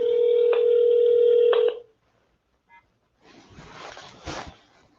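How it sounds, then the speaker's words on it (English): Push-button telephone dialing tones followed by a ringing tone, loud and steady for almost two seconds, then a brief pause and a short burst of rustling or faint voice before the call connects. "Got to ring them up."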